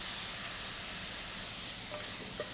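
Fish meat dry-frying in a pan for a Thai curry of catfish with pickled bamboo shoots, giving a steady, close hiss of sizzling with faint scraping stirs near the end, no voices.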